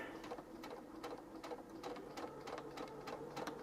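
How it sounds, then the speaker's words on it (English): A sewing machine stitches through ripped denim jeans in a steady, rapid run of needle strikes that carries on throughout, close and moderately loud with no talking. "Sewing the jeans back shut."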